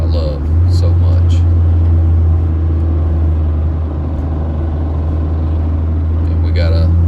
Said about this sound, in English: we got a straight pipe Tahoe in front of me. They always sound so good straight piped.